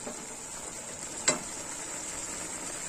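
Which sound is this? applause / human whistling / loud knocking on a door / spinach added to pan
spinach added to pan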